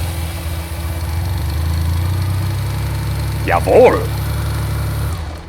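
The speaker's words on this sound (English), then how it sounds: "a massive fuel pump that creates what came to be known as the K-whine." A BMW K75 motorcycle's Bosch fuel pump whines over the running engine, a steady low idle hum with a mechanical drone, while a voice briefly exclaims near the end.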